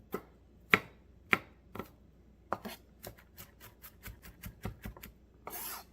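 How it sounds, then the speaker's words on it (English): A knife chops garlic and mushrooms on a cutting board, with sharp, close, separate strikes that speed into a quicker rhythm, then a brief scraping sweep at the end. "And I'm still chopping away here."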